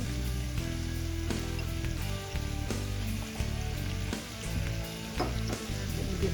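Fish head and moong dal sauté in a pan for muri ghonto, giving a continuous loud sizzle and frying crackle with occasional stirring scrapes and clinks close by.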